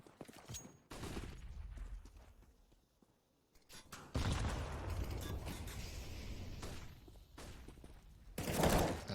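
Bursts of gunfire from a Counter-Strike: Global Offensive match, with sharp volleys early on and a denser, sustained stretch of shooting in the second half, ending in a loud close burst.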